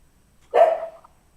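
One sharp dog bark rings out alone against near silence, loud and close, with a brief tail as it fades.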